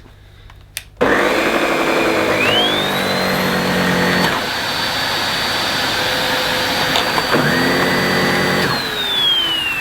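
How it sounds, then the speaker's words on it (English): A Miele Boost CX1 Cat & Dog vacuum cleaner starts after a click and runs loudly, its motor whine rising to a steady high pitch, shifting once or twice as the load changes, then easing down at the end. "So if I turn the cleaner on now, the brush roll will not rotate."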